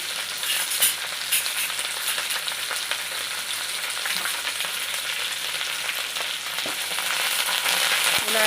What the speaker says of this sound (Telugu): ఇలా అంతా కదుపుకుంటూ వేపేసుకోవాలండి